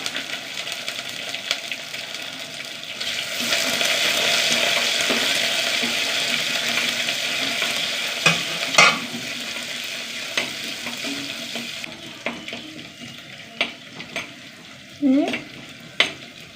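Shallots and cumin seeds frying in a pan, a steady close sizzle with stirring scrapes and a few sharp clinks of a utensil against the pan near the end.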